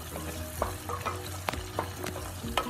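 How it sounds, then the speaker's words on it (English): Chopped onions fry in a pan for a fish curry, giving a steady close sizzle broken by several sharp scraping stirs, with no talking. "you add 2 chopped onions. And you let it fry until it's translucent"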